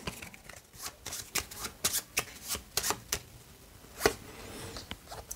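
Cards from the discard pile of the board game Oros being shuffled by hand, a quick series of crisp riffling bursts close by, repeated in uneven rhythm with a louder flurry near the end.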